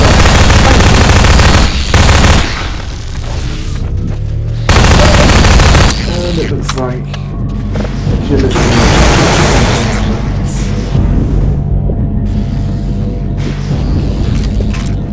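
Rapid SMG bursts in Half-Life 2 while fighting off antlions at an outpost, loud and dense automatic fire with booming explosions mixed in, continuous across the whole stretch.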